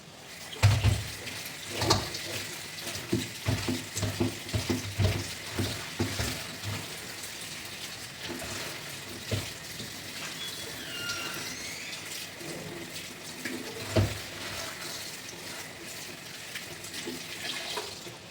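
Spinach washed by hand under running tap water, with a steady splashing stream, irregular sloshes and handling knocks close by, no voices.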